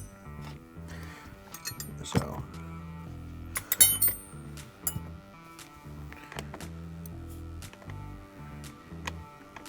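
Metal wrenches clink and tick as they are set one by one into a magnetic modular organizer, producing scattered light, close metallic taps with brief ringing over a faint background hum.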